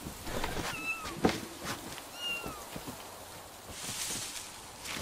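A cat meows twice in the hidden-object game Grim Legends: The Forsaken Bride. The short, rising calls sit fairly close, with light footsteps and soft background sounds around them.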